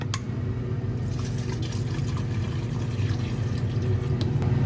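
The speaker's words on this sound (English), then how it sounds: "I'm adding some distilled water." Distilled water poured into a vessel holding inquarted gold, a steady liquid fill with a continuous low rushing texture throughout and a few faint clinks, no talking.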